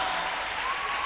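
Audience applause at a student debate on science versus art, a dense, steady burst of clapping heard alone and at close range for about a second.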